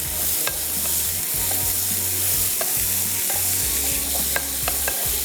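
Chicken being fried and stirred in a pan as the base of a smoked tomato spaghetti, with a continuous loud sizzle, a low hum beneath it and intermittent scraping stirs, no talking.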